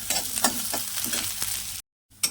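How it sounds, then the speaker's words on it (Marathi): Onion frying in oil in a kadai, a continuous sizzle with several spatula scrapes and taps, close and clear, cut by a brief silent gap before one last stir. "कांदा ना आपल्याला हलकासा लालसर करून घ्यायचा आहे त्यामध्ये थोडस तेल घालून घेऊया"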